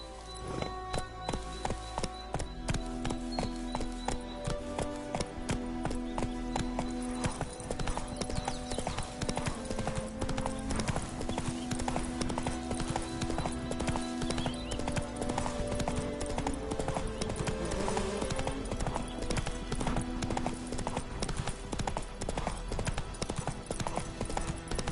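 Horse hooves gallop steadily in a video game, a fast even clip-clop rhythm that runs throughout under game music and ambience.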